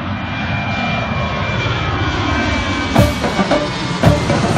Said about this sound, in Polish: gdzie można podziwiać startujące i lądujące samoloty